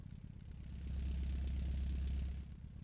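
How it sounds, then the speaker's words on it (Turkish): A car engine idles in the car-building game Automation, a steady low rumble that swells slightly in the middle, with light ticking above it. "Evet arabayı çalıştırdık şu an."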